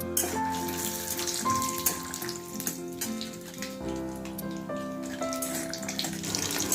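Peanuts fry in hot oil with a continuous crackling, spitting sizzle and scattered pops, heard close and without talk.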